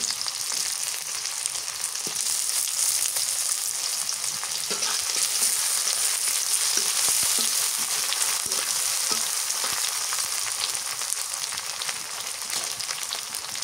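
Kakila fish fries in hot oil in a pan, giving a steady, dense sizzle and crackle that runs without a break at close range.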